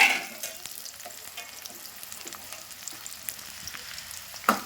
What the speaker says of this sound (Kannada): ಈಗ ಉಳ್ಳಾಗಡ್ಡಿ ಒಂದು ಸ್ವಲ್ಪ ಫ್ರೈ ಆಗುತ್ತೆ ನೋಡಿರಿ